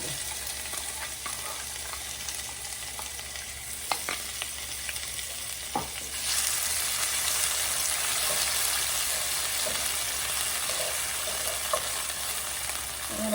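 Onion and green chillies fry in a pan, first a low steady hiss with a few sharp clinks of a utensil, then a louder, fuller sizzle that swells and holds close and constant.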